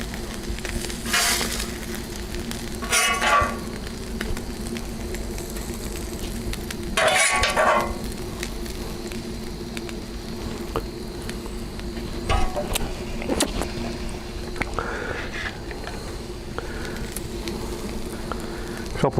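Onion and a burger patty sizzle on a grill, a steady, crackling hiss that runs throughout, with occasional louder spits and light metallic clinks.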